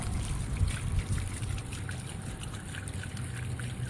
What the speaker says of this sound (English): I'm going to rinse it out, and then I'm going to dump it on my concrete this time.